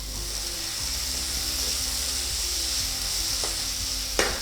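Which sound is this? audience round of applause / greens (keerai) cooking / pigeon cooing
greens (keerai) cooking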